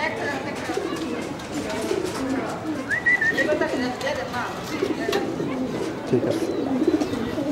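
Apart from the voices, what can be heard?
khaki pigeon cooing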